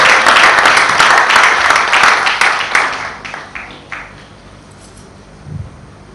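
A Congolese community audience in the UK bursts into loud, dense applause and cheering for a pastor being introduced, the clapping then thinning out and fading into scattered claps and quiet.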